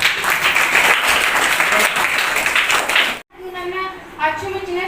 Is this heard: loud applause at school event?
yes